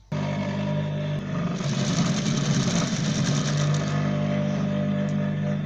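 Sewing machine stitching abaya fabric, a steady close mechanical whir with fast rhythmic needle chatter running continuously at an even, moderate loudness.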